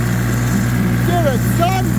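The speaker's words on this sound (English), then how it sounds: "Just a man playing on his tractor, mowing some grass." A steady tractor engine drone runs throughout as it mows grass nearby, with a couple of brief whistly tones over the constant hum.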